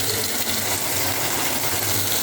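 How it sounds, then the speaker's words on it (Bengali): Water gushes steadily into a bowl to rinse out leftover spice paste, a close, continuous pour with no talking. "বাটিটা ধুয়ে জল দিয়ে দেবো তো বাটিটা জল দিয়ে দিচ্ছি"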